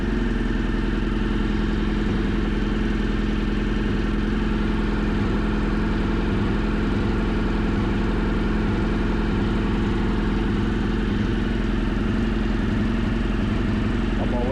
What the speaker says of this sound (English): Hear those revs go up.